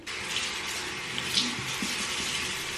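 A bathroom tap runs in a steady, close hiss of water into the sink as a face is wetted, with slight splashing changes throughout.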